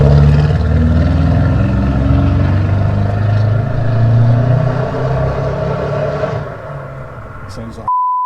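A car named Scarlet idles loud and close just after its first start following repair work, a steady, rough, tractor-like rumble that cuts off abruptly near the end.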